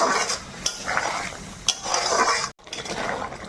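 Olive, tomato and sweet potato chutney stirred in a pan, with a steady scraping and clinking of a spoon against the pan and a soft cooking hiss, a couple of sharper clinks, and a brief pause near the end.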